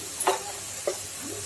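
Ground spices (turmeric, chili, Kashmiri chili, cumin and coriander powder) with a ginger, tomato and green chili paste frying in a pan for a vegetarian curry. A soft sizzle runs throughout, broken by two short scraping stirs of a spoon.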